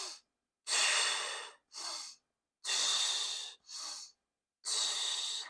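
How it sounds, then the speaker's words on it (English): Pilates breathing during kicks on a mat, with close, clear breaths in and out: long airy exhales alternating with shorter inhales, about five breaths in a steady rhythm with silence between. "We add the breath, inhale, kick, exhale,"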